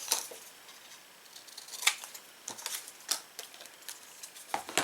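Scissors snip through paper while cutting out paper clip bookmarks, a series of short, crisp clicks and cuts at irregular intervals, close and fairly quiet.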